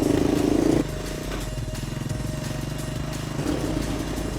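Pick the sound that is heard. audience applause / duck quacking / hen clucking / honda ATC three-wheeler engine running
honda ATC three-wheeler engine running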